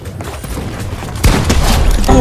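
Gunfire in Fortnite aimed at a wall, a sudden burst of rapid close shots kicking in partway and continuing loudly to the end, with a voice talking underneath.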